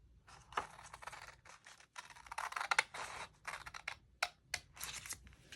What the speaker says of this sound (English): I'm going to cut it, and then I'm going to do this one right here, cut to that score line